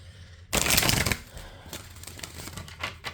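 Tarot cards are shuffled close up in one loud riffling burst lasting about half a second. Softer card handling and quiet ticks follow.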